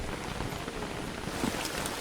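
Steady rain falls in the video game Don't Starve Hamlet, a continuous soft hiss of drops on a surface that holds at an even level throughout, with no talk.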